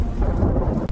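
A blizzard storm with thunder rages outside a cabin: a continuous, loud low rumble of thunder with heavy rain-like wash filling the whole second, steady throughout with no voices.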